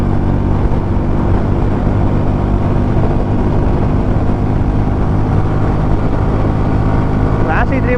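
A 2026 Royal Enfield Bullet 350 motorcycle is ridden at speed, its single-cylinder engine giving a loud, steady low rumble mixed with wind roar, while a rider talks over it.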